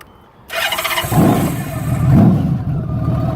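A 1997 Honda Valkyrie Tourer motorcycle fitted with a Cobra exhaust cranks with a short high starter whine, then fires up into a loud, close, throaty engine rumble that swells and holds steady.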